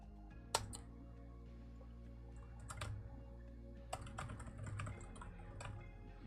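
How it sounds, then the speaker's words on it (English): Someone mashes keys on a computer keyboard, producing a rapid, irregular clatter of clicks, close and fairly quiet, with no talk. "I mashed on my keyboard a whole bunch"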